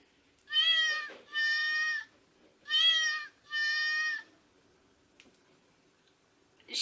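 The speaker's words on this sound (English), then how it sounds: "I found this kitty keychain, and if you squeeze it," A squeezable kitty keychain toy gives four electronic meows in two pairs, clear and close in a quiet room, followed by a few faint clicks.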